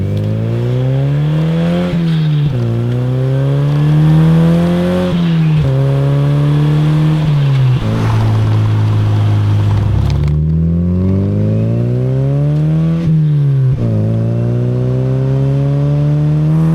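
A Mazda NC Miata with a single-exit muffler drives by close and loud, its engine rising and falling through repeated rev climbs and gear changes with a smooth, buzzy exhaust note throughout.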